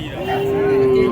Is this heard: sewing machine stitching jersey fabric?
no